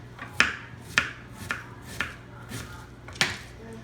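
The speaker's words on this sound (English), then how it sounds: "I'm gonna chop my half white onion into as small pieces as I could possibly chop it" Half a white onion chopped on a chopping block with a knife, six or seven sharp, evenly spaced thuds about half a second apart, close and clear, with no talk.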